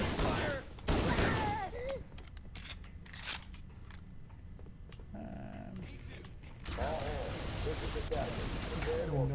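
Rapid gunfire bursts from the video game Halo CE Anniversary crackle and pop at close range, interspersed with other game effects, while a player talks over the action.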